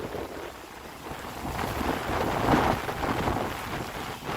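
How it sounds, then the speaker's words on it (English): Strong wind gusts during severe weather in Fairfield, Illinois roar steadily into the microphone, building toward the middle with a low rumble and broad rushing noise. "Wind is picking up here."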